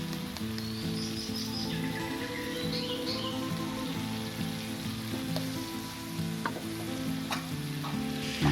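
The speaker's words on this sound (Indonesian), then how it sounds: "masukkan bumbu penyedap, kemudian diaduk kembali." Fried rice seasoning sizzling in a frying pan as it is stirred, a steady close crackle with scraping stir strokes throughout, a few faint bird chirps in the background and no talking.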